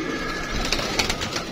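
Pigeons on a rooftop give brief soft coos and rustles over a low background rumble in a short, fairly close snippet.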